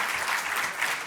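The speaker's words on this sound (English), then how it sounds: "Don't applaud too much." A short burst of audience clapping, dense and steady throughout, with no voices over it.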